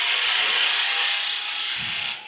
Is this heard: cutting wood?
yes